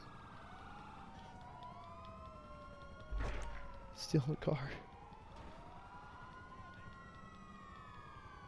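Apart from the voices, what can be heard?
broken police car siren in video game GTA 5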